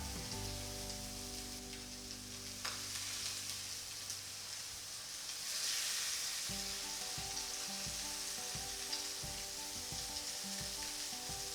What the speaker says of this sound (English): I'm going to cook the burgers for 3 minutes for each side.